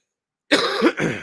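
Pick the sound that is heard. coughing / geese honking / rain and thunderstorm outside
coughing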